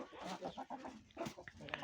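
Young roosters and hens in a farmyard after two days of rain, a few soft clucks and short calls scattered among nearby shuffling, close and fairly quiet.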